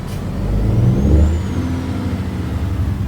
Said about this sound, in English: I'm gonna wait for these trucks to go by.